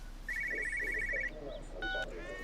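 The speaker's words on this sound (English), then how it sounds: "Why is there a phone ringing?" A telephone in Everybody's Gone to the Rapture rings with a trilling electronic bell, a rapid warbling burst followed by a shorter second ring, faint under quiet background noise.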